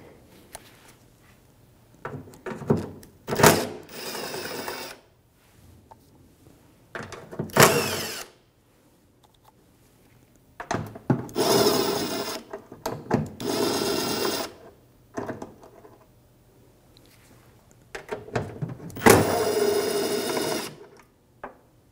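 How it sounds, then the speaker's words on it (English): An 8mm socket ratchet unbolts the inner tail light on a 2011-2017 Honda Odyssey, heard as several close bursts of rapid clicking separated by quiet pauses. "Then I'm going to get an 8mm socket."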